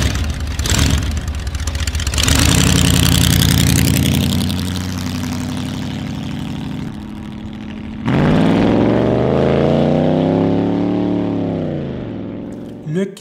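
A tour motorcycle in Sedona, Arizona idles loudly up close, then revs hard twice, its engine note climbing and falling in strong surges, with a brief pause between the bursts.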